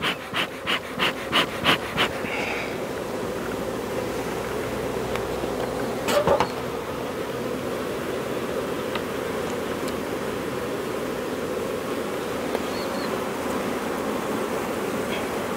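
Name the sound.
honey bees buzzing at an open hive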